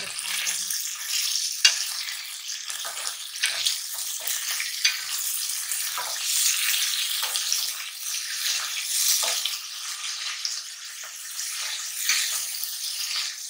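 Mutton roasts in a pan for Afghani gosht, giving a steady hiss of sizzling fat broken by crackles and pops as the meat is stirred, close and continuous with no voice over it.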